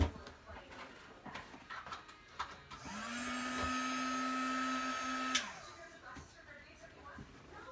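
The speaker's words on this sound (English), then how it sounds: "This is an embossing heat tool by Marvy. It's a model 2500." A Marvy model 2500 embossing heat tool blows with a steady, loud whirring hum for about two and a half seconds, switched on abruptly and then off, with faint handling noises before and after.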